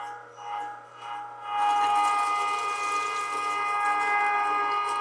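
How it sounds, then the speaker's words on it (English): A Valley Sportsman #32 electric meat grinder switches on and runs continuously, grinding meat with jalapenos, a loud steady motor whine with a bright humming tone that holds after a brief quieter start. "We're just grinding her down."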